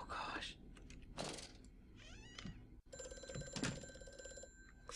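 A telephone rings with repeated electronic ring tones inside the horror video game Amnesia, over a dim, busy background with a few voice-like and animal-like sounds mixed in.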